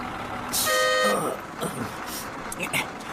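A bus horn blasts once, loud and close, as the bus prepares to leave amid street noise, with voices talking around it.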